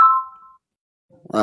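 A short electronic ringtone tone sounds briefly, followed by silence and then the start of a voice.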